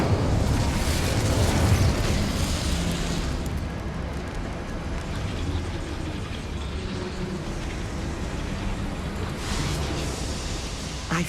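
Incendio fire spell cast in the Hogwarts Legacy video game, a loud whooshing roar of flame with a burst at the start, sustained rushing fire noise, and a second flare near the end.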